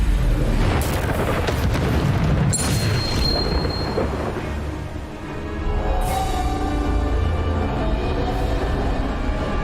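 A Bombarda explosion spell in the video game Hogwarts Legacy sets off a dense, booming blast that rumbles loudly for several seconds, briefly dips, then swells again into a sustained crash-filled roar.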